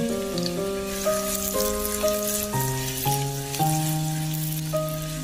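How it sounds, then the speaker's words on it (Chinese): Soft sizzling of minced scallion and ginger stir-frying in oil left from pan-frying tofu, heard faintly beneath steady background music. "然后利用煎豆腐的油，把葱姜末炒出香味。"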